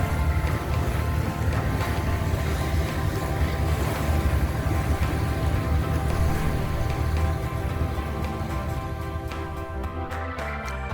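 Private boat cruising on New York Harbor past Ellis Island, with a steady engine drone and wash of water and wind noise, holding constant before fading slightly near the end.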